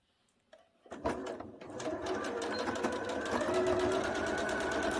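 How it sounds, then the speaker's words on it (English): A sewing machine starts up and runs a steady, fast stitching rhythm close by, sewing a one-centimetre seam along the neck facing of a knit tee, alone without talk. "we're starting off by sewing 1 centimetre seam allowance along our neck facing"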